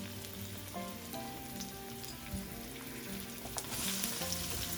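Sliced garlic and spring onion fry in oil in a pan, a soft, continuous sizzle with light crackles heard close but fairly quiet, with no talk.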